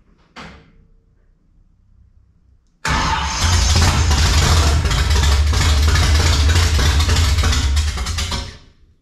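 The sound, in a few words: 1955 Chevy engine firing and idling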